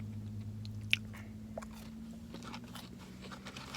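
Soft, close chewing and crunching of spicy fried chicken nuggets and burgers from a fast-food meal, with one sharp bite and irregular quiet mouth sounds over a low steady hum.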